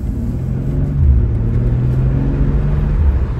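A 2023 BMW M2 engine hums low and loud from inside the car as it pulls away, a steady deep rumble that swells slightly around the start, with no voices over it.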